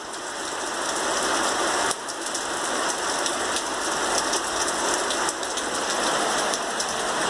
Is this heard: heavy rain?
yes